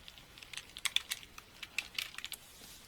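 Keys tapped on a computer keyboard while entering a function search term, a quick irregular run of light clicks, close and fairly quiet, with no talking.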